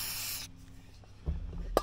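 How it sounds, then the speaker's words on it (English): Aerosol lubricant sprayed from a can during repair work on a John Deere 318 lawn tractor, a loud steady hiss for about half a second, then quieter handling clatter and a sharp knock. "Spray a little lube on her so she goes in a little easier for us."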